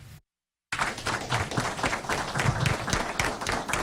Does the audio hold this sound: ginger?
no